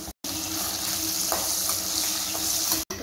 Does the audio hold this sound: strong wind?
no